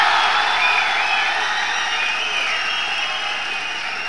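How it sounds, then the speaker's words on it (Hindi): Loud, continuous applause from a large audience at a grand mushaira poetry gathering fills the space, a dense steady roar of clapping holding the whole time without any speech. "तो ज़ोरदार तालियों से।"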